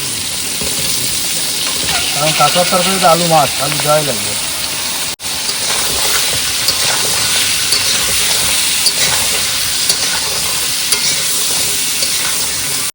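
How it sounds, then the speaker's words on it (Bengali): Crab pieces sizzle and fry in a pan on a boat on a Sundarbans river while being stirred, a steady broadband frying hiss running throughout with a voice talking over it early on. "কাঁকড়া হালকা ভাজা হয়েছে এবার দেবো আলু"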